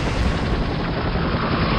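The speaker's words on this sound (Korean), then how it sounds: "비행선이 도착했습니다" Animated airship arriving, a dense, loud, steady roar of engine and rotor-like rumble filling the whole moment without a break.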